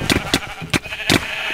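Sheep in a video game bleat in four short, sharp calls in quick succession, loud and close, with no talk over them.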